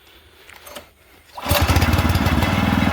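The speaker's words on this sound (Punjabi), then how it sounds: "ਇੰਜਨ ਸਟਾਰਟ ਵੀ ਦਿਖਾਈਏ ਵੀ ਕਿਵੇਂ ਚੱਲਦੀ ਹੈ ਇਹ" A boat-type engine used to run a village water pump for irrigating maize is started after a quiet moment, then settles into a loud, steady, rapid chugging throb close by.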